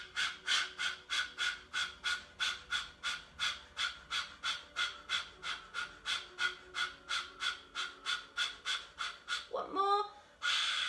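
Children doing rapid yoga breathing, a quick steady series of about thirty sharp breaths at close range, ending with a brief voice.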